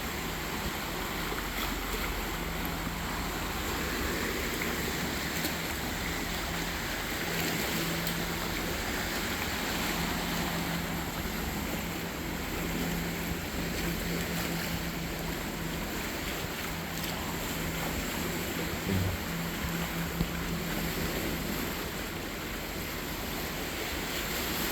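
Very choppy canal water slaps and washes steadily against a boat's bow at Point Pleasant Boro Canal, a continuous broadband rush with wind noise and a low engine-like hum throughout, no talking.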